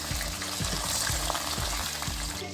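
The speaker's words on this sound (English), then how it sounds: "Then add onion paste, onion and ginger paste. Fry them." Onion and ginger paste frying in a pan for a Bengali rohu fish curry, a steady close sizzle and crackle with soft stirring scrapes running throughout, no talking.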